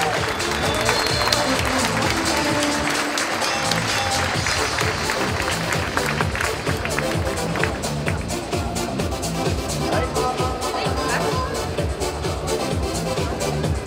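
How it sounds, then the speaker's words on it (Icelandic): An audience applauding for two horses and their riders at an Icelandic horse show, dense sustained clapping from a large crowd that stays loud and even from start to finish. "Við skulum gefa Sandvíkurklárunum tveimur gott klapp og flokkum þeirra."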